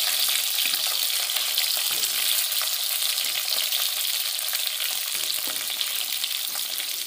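Vegetables such as drumstick and papaya sizzling as they fry for sambar, a steady loud crackling hiss in the pan with occasional stirring scrapes throughout.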